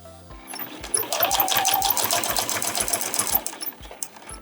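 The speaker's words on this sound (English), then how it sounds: "And then I'm gonna sew right on top of that second piece." Sewing machine stitching fabric coaster strips, a fast steady mechanical chatter running for several seconds, close and alone.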